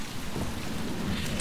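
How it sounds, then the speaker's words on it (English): Rain in the video game Resident Evil 2 Remake, a steady hiss of rainfall on surfaces with a low rumble underneath, continuous and fairly loud throughout. "Why is it raining?"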